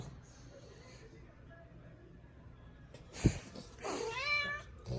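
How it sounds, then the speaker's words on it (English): A bulldog harassing a house cat draws a few plaintive cat meows, soft at first and then louder and drawn out near the end, with a sharp thump between and a voice nearby. "quit torturing the cat"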